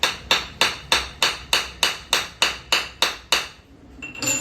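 A hard object strikes a coconut shell along its ridges, a steady run of about ten sharp knocks evenly spaced and close by, followed by a brief softer rustle.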